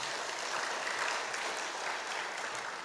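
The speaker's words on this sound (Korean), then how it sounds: "우리 하나님께 박수 영광 돌리겠습니다." Congregation clapping in a church service, a dense steady round of applause that fills the space evenly for its whole length, with no voices standing out above it.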